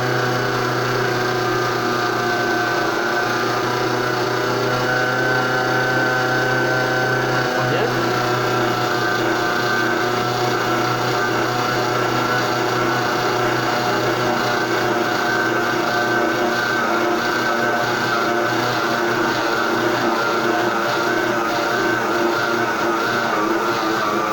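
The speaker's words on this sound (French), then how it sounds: "Maintenant, je vais mettre au pétrin. Alors, je vais mettre. La farine se mélange." A dough kneading machine churns flour and water for bread, a steady mechanical motor hum with rhythmic rubbing and slapping of dough in the bowl, continuous and close.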